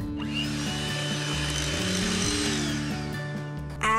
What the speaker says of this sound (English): Now I'm going to give this all a good whisk.